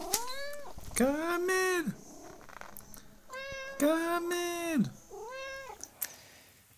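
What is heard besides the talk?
domestic cat meowing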